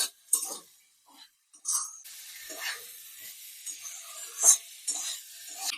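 Fried fish eggs are stirred into a cooked spice masala in a pan for a Bengali fish roe dish. Intermittent scrapes of a spoon and faint sizzling come near and fairly quiet, with short gaps between strokes.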